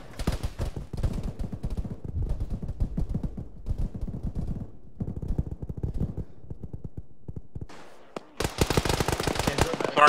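Rapid machine-gun bursts and scattered rifle shots ring out in the Arma military shooter, dense and loud, with a brief lull before another heavy, harsh volley near the end.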